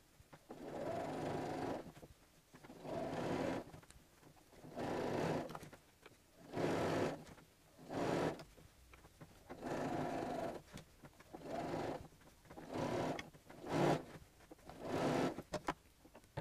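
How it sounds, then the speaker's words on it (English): A sewing machine stitches over a thick seam through several layers of fabric in steady bursts of a second or so each, separated by brief pauses. It drones close and evenly, with no talking. "I may need to help just ease the machine over the seam because there's a lot of fabric"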